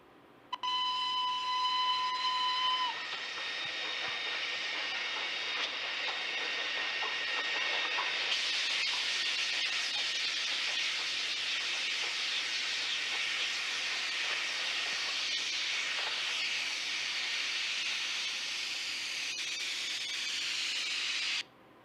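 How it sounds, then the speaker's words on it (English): A steam train whistle blows a steady tone for about three seconds, followed by a long, loud rush of hissing steam that continues to the end. "we listen to the sad, melancholy whistle of the train"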